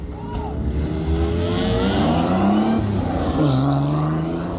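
A race car heads out on track at Taupo, its engine rising and falling through gears with a loud buzzing rev that climbs, dips, then climbs again, close by.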